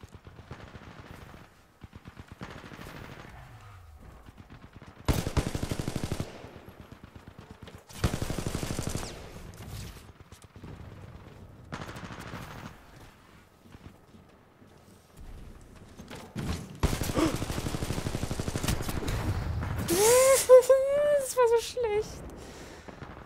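Bursts of automatic turret fire in Titanfall 2 come in separate loud volleys with gaps between them, followed by chaotic battle noise and rising electronic whines, while someone talks now and then.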